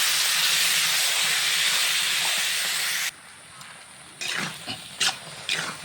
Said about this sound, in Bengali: আমি তরকারিটা ঢেলে দেবো।